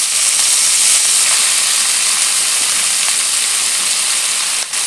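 Malabar spinach leaves frying in hot oil produce a loud, continuous hissing sizzle that stays steady from start to finish.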